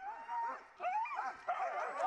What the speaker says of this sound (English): I wonder how strong the dogs are.